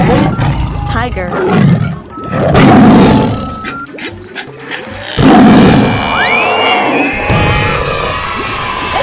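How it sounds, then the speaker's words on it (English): Tiger roars in a 3D animal slide video game, two or three loud, sustained roars swelling over game music and whooshing sound effects, with a voice speaking between them. "Tiger."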